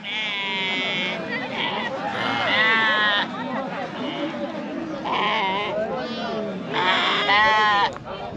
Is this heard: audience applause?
no